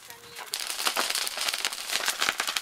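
Salt cooking over heat in a small, hot room in Bolivia gives a dense, continuous crackling and popping, close and fairly loud, with faint voices underneath.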